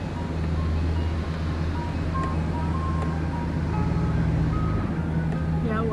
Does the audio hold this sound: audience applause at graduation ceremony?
no